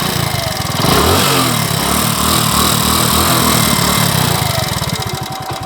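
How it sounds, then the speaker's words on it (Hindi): A motorcycle engine revved hard during a repair check on a headlight bulb that keeps fusing, a loud close mechanical roar that climbs and holds at high revs before easing, with no talk. "तो ये आप देख रहे हैं रेस बाइक की आ रही है"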